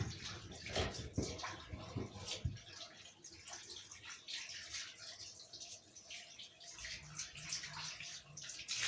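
Hot water runs and splashes over bones being washed in a kitchen sink, a steady, fairly quiet rush with sharper clatter and splashes in the first few seconds, then a softer continuous flow.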